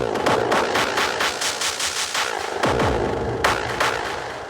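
A rapid series of sharp, punchy booms and hits from a drum sample library, some with deep low rumbles, fired in quick succession then trailing off.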